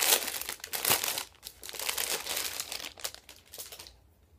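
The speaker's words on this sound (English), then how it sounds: "Sorry for the crinkling." Loud crinkling of plastic packaging around a skein of superwash merino yarn, bursts of crackly rustling that stop abruptly near the end, heard up close with no talking.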